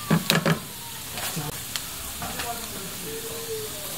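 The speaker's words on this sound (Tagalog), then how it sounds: "Gisa-gisa lang natin siya hanggang lumabas na po ang aroma niya." Garlic and onion sauté in a pan where ginger is already browning, for laing. A few clattering stirs open the sequence, followed by a steady, soft sizzle.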